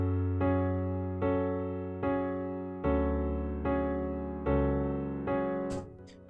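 Dark piano chords with deep bass notes programmed in FL Studio for a hard trap beat, played as six evenly spaced sustained chord hits that ring and decay, each new chord striking loudly and cleanly with no voices.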